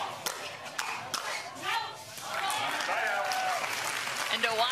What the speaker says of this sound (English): when you hear repeatedly the crowd saying, wow, we can hear our microphones picking that up